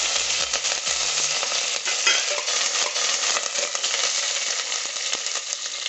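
Mustard seeds, asafoetida, curry leaves and red chillies crackle and sizzle in hot oil with a steady, bright frying hiss, close up, with a few faint clinks of a utensil.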